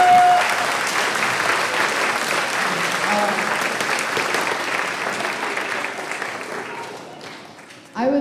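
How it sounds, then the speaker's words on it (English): An audience at a middle school end-of-year choir performance applauds in a sustained, full burst of clapping that slowly fades, followed by a voice speaking briefly at the end. "So let's give the PTA also a round of applause."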